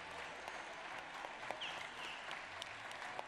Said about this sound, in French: On peut les applaudir, et même très fort.